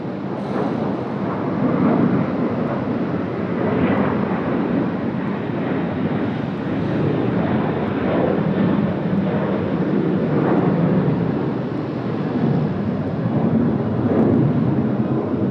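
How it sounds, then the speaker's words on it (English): Qantas flight 19, an airliner bound for Manila, takes off from Sydney Airport, its broad jet roar steady and loud throughout, rumbling with wind buffeting and no voices. "Here's Qantas 19 service to Manila. Heading up to the Philippines, rotating nice and early as well, off the big kicker."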